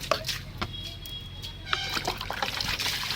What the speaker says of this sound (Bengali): এত কাদা জুতোটাকে এখানে ধুয়ে দিই